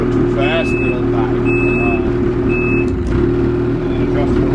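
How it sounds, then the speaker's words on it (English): Electronic reverse beeping on a 2020 Ski-Doo XRS 850 Renegade snowmobile: three short, evenly spaced high beeps over a loud idling engine rumble, with someone talking nearby. "if the engine's running and you come to a stop and you hit this, it's your electronic reverse, it'll start beeping"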